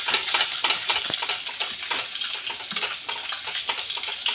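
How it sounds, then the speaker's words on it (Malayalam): Garlic frying in a pan for a prawn roast gives a steady, close hiss and sizzle, with crackling pops and occasional stirring scrapes, heard alone without talk. "ഫസ്റ്റ് തന്നെ ഞാൻ വെളുത്തുള്ളിയാണ് ഇട്ടത്"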